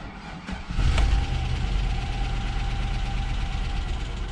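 A GM LS V8 with a freshly replaced oil pickup tube cranks briefly and catches, then settles into a loud, steady idle with a low rumbling drone close by.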